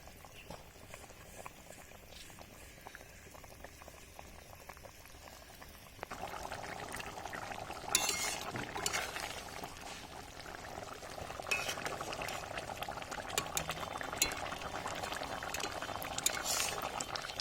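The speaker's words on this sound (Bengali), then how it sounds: "তরকারিটা ভালো মতন ফুটে গেছে" A pot of meat and potato curry boils on the stove with a steady bubbling simmer that grows louder and fuller partway through, continuous and fairly close, with no talking.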